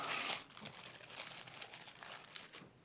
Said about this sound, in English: Oh, I probably should have unwrapped this earlier.